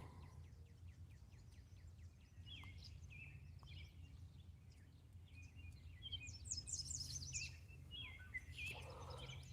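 Faint, high chirps and twitters from small birds scattered over a steady low hum beside a creek, growing a little busier toward the end.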